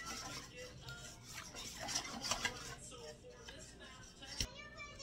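Achuete powder being stirred into a kutsinta rice cake mixture, soft scraping and swishing of a utensil against a bowl, faint and close, with a few louder clinks.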